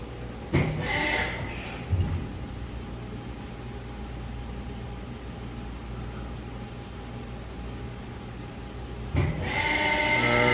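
An Engel VC 200/100 US liquid silicone injection molding machine from 2011, in setup mode, runs a steady mechanical hum and whine as its clamp slowly travels back and forth, with brief louder clunks near the start and again near the end.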